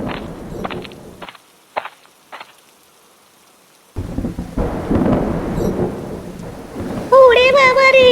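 Cartoon thunderstorm with heavy rain: sharp thunder cracks and rumbles come first, then a steady loud downpour fills the scene, with a cartoon voice speaking over the rain near the end.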